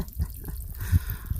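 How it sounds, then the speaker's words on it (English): Spring water trickling off arranged leaves into a bottle on the Appalachian Trail, a soft steady patter and drip close by with a few louder splashes, no talk. "Look at what these genius hikers ahead of me have done with these leaves to make it so it pours into your bottle."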